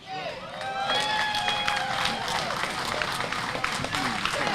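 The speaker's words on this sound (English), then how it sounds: "let's give him another round of applause" A crowd at an outdoor justice rally in Washington, D.C. claps and cheers in a continuous roar, with whoops and shouting voices woven through the dense applause.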